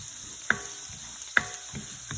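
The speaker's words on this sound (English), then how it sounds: "I'm going to add the garlic. And saute it" Garlic sautéing in a pan, a soft continuous sizzle with a few crisp ticks and scrapes from stirring, close but moderately quiet and without speech.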